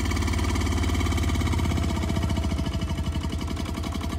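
A 1957 Holder A10 two-cycle diesel tractor engine idles close by, giving a steady, rapid, pulsing throb that stays even throughout, with no other sounds.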